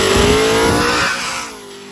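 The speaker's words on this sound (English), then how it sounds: "Big old burnout to get in" A drag racing car does a burnout, its loud engine roaring steadily with tyre screech on top before the sound eases and fades slightly as the car moves off.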